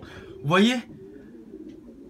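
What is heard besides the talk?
pigeons cooing in their loft compartments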